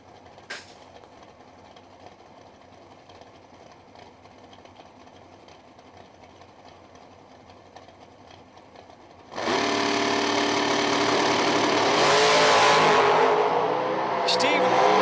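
A May Race Carbs dragster at a bracket drag racing event in the Midwest. After a low background idle, it launches with a sudden loud roar that stays sustained and powerful as the car runs down the strip, with an announcer talking over it.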